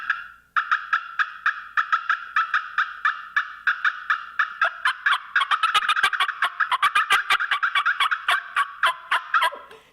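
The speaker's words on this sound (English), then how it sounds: "We're not being invaded by turkeys here today." A wild turkey gobbles over and over in a fast, steady series of loud, close calls, with the rhythm tightening toward the end and no talking.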